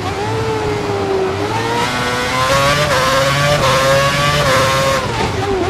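An F1 race car from the game F1 2011 runs at full revs on the Budapest circuit, a loud, high, sustained engine whine whose pitch wavers up and down with the gear changes, with no talk over it.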